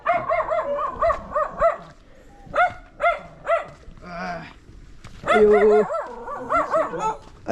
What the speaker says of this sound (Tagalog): Kaibigan na namin itong mga aso dito